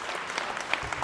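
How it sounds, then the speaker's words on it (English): Audience at an activist forum clapping hands, a dense burst of steady applause from many people, fairly close and continuous. "As revolutionaries, please clap hands for yourselves."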